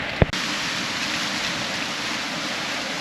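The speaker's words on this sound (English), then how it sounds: "I haven't got a great tarp configuration up, but it's enough to keep the rain off." Rain falls on a camping tarp in high wind at a cliff-edge campsite, a dense, constant broadband hiss after a brief knock at the start.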